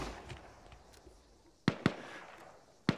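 A thrown explosive in Arma 3 goes off, heard as three sharp, loud blasts, two close together and a third a second later, after a stretch of quieter background noise.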